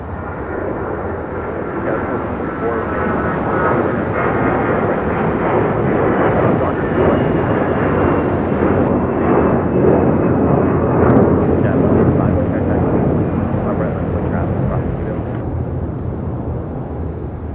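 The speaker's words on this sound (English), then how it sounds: "That was American Airlines Flight 1952 heading to Charlotte" An American Airlines A321 jet at LAX airport roars steadily with a loud, broad rumble that swells and holds for many seconds before easing slightly, heard from fairly close.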